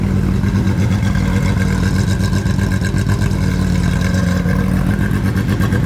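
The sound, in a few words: rotary engine car revving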